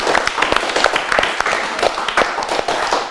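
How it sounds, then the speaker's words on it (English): Studio audience clapping for both teams at the close of a Ramadan quiz show episode, a dense, steady patter of many hands at close range, with some talk underneath. "give a big clap for both of the team, please"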